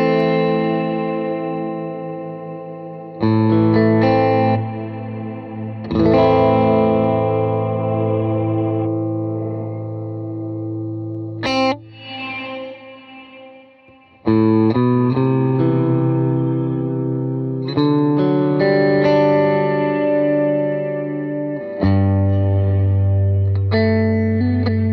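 Guitar chords and swelling notes run through a Black Hole reverb pedal on its anti-gravity setting, giving washy, sustained ambient trails with chorus-like shimmer; several loud strummed passages separated by brief fades, with no talking.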